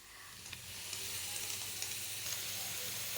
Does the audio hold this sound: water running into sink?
no